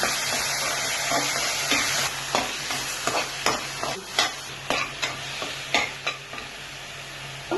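A ground paste fries in leftover oil with a constant sizzle as a spoon stirs and scrapes the pan repeatedly, the knocks quickening toward the end.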